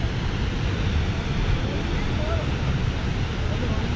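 Snoqualmie Falls roaring, a dense continuous rush of falling water and spray with a steady wind-like hiss, loud and close with no gaps.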